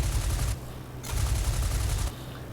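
Aircraft guns firing in the IL-2 flight simulator game: two rapid automatic bursts, each about half a second to a second long, separated by a short gap over a steady engine drone, with no talk.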